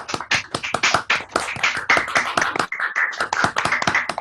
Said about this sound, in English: if everybody wants to go off mute for 1 minute and to just clap